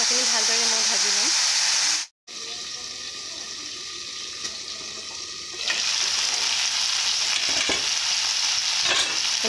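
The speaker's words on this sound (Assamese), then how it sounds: "মাংসখিনি ভালদৰে মই ভাজি লওঁ।" Pork pieces fry in hot oil in a home kitchen pan with onion, garlic and ginger, a steady loud sizzle broken by brief stirring scrapes, and a voice speaks over it.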